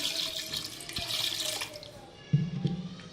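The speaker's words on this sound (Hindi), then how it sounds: "अब इसमें आधा किलो हम पानी डाल देंगे।" Water runs and splashes into a pressure cooker holding beef, a close, continuous pour that thins out before a few louder sloshing gulps near the end.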